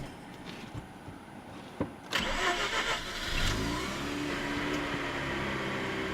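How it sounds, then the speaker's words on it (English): A Mazda RX8 rotary engine with power loss and misfire is started, then revved up into a steady, rising whine that holds at a raised pitch, heard close and without talk. "Rev it gently. Revs go up."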